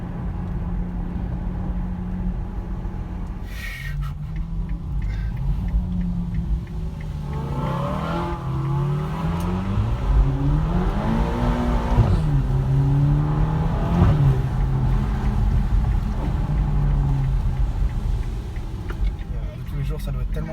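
Ferrari GTC4 Lusso T driving with its engine rising and falling through revs, heard from inside the cabin; the engine note climbs and settles under near-constant conversation in French.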